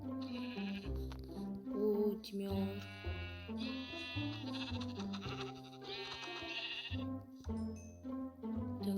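Sheep in the video game Minecraft bleat repeatedly in short wavering calls, close and fairly loud, with a few brief spoken words mixed in.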